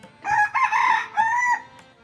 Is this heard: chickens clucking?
yes